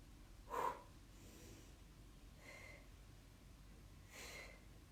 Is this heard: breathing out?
yes